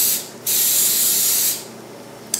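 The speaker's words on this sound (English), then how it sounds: "spray some olive oil in here" Olive oil sprays from a spray bottle in a kitchen in one long, loud hiss of about a second, with a shorter burst at the start and a quick puff at the end.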